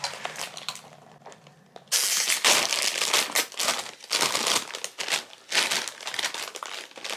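A snack bag, an extra-hot chip bag, being torn and crinkled open, with a soft rustle at first and then loud, bursty crackling and crumpling that fills the rest of the clip.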